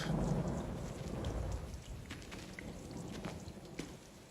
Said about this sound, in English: See, here comes the rain.